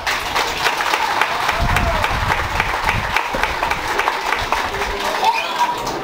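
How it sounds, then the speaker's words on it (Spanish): A crowd claps at a patron saint festival in La Hincada, Guadalcázar, San Luis Potosí, with steady, loud, continuous applause and some cheering filling the whole stretch and no break. "le pedimos un aplauso"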